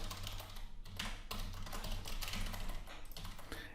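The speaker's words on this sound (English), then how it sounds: "And I'll type in Sean." Computer keyboard typing while entering a name into a WordPress web form, a handful of faint taps buried under a steady loud background hiss and hum, with no speech.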